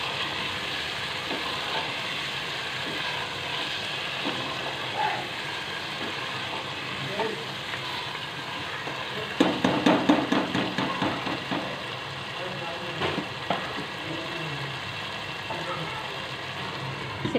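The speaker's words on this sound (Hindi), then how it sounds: "ये हम इसे 5 मिनट नमक के साथ मज़ीद भूनेंगे" Meat frying with salt in a pan, a steady sizzle under a burst of rapid scraping stir strokes near the middle, fairly close and moderately loud.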